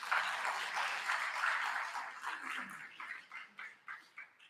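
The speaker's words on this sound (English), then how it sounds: "let's give them a round of applause as well" An audience claps steadily at a senior thesis event, the applause gradually thinning out into a few scattered claps toward the end.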